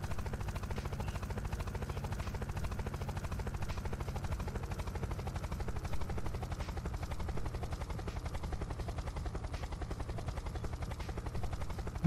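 Continuous rotor and engine drone of a helicopter in flight in the video game Unturned, loud and steady for the whole stretch with no talking.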